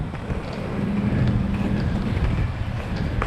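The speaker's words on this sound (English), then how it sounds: "We got some wind behind us, I think, right now." Wind gusts roar steadily across the microphone while roller skating outdoors from Lido Key toward St. Armand's Circle in Florida, a loud low rumbling buffet that fills the whole stretch with no one talking.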